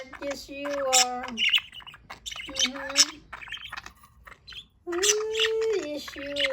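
A pet budgie gives repeated scratchy squawks and chirps in short bursts, close and fairly soft, with pauses between them.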